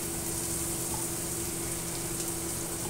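Garlic sautéing in olive oil in a pan for a creamy shrimp pasta gives a soft, constant sizzle with a faint steady hum beneath, quiet and even throughout with no talking.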